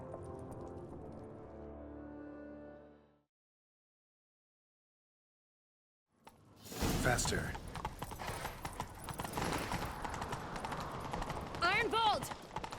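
Horses gallop in a chase in The Witcher 3, the hoofbeats starting after a stretch of music and silence and then pounding steadily and close with a brief whinny, while a voice calls out over them.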